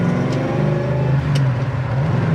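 A 1969 Ford Mustang Mach 1 R Code engine pulls steadily through the gears, its loud, close mechanical drone rising and falling in pitch without a break and with no voices over it.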